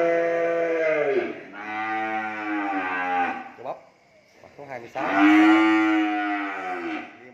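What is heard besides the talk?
cattle mooing at a cattle farm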